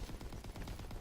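Rapid LMG gunfire in the video game Call of Duty WWII Nazi Zombies, a quick, dense burst of repeated shots fired in fast rhythm, faint and continuous throughout.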